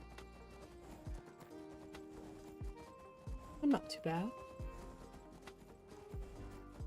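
Horse hooves clip-clopping in Skyrim during horse combat, with a brief whinny near the middle, set under game music and someone talking over it.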